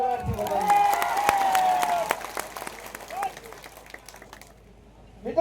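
A rally crowd supporting Chaitar Vasava breaks into dense applause that rings out strongly for about three seconds, then thins and fades into quieter scattered claps and murmur.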